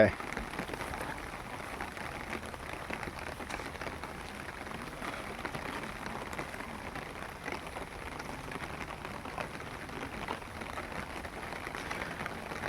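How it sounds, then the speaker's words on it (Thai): Steady rain falling over a durian orchard in southern Thailand during a storm, a faint, even patter and hiss of drops on foliage and surfaces continuing throughout. "ฝนตกทั้งวันเลยนะครับตั้งแต่เช้า"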